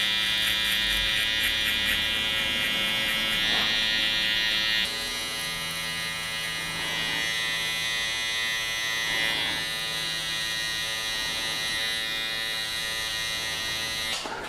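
An electric hair trimmer cutting a skin fade buzzes steadily and close with a bright high whine, its tone shifting slightly partway through as the blade moves against hair, with no talking.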